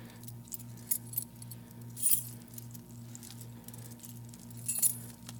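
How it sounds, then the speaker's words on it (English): Small metal clinks and jingles from a key entering the keyway of a TSA luggage lock and pushing its wafers aside, a few light taps standing out over a steady low hum. "I should be able to just go into the Keyway, and you notice how it moves all of those little wafers out of the way"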